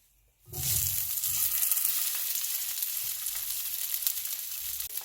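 A fish cake hits hot oil in a pan on medium-high heat and sizzles loudly and steadily, with faint stirring scrapes beneath the constant frying hiss, close up and free of speech.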